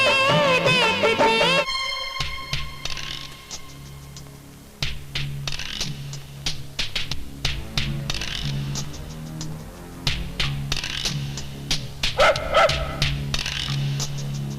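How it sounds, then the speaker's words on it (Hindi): Dog barking inside an office, repeated sharp barks and yips close and loud over background music, with several quick bursts near the end. "ऑफिस में कुत्ता लाने का क्या मतलब है?"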